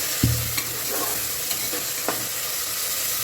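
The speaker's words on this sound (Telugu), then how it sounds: "ముందుగా నానబెట్టుకున్న ముక్కల్ని కూడా యాడ్ చేసి కలుపుకొని ఫ్రై చేయాలి" Soaked mutton pieces fry with onions and green chillies in a hot pan, a steady close sizzle broken by a few clattering stirs.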